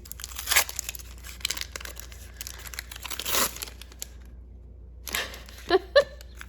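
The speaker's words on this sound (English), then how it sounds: "I'm probably hurting someone's feelings the way I'm opening these cards" Junk wax baseball card packs being torn open by hand, with bursts of crinkling wrapper and ripping foil coming in uneven spurts close by, a quiet gap, then a few sharp crinkles near the end.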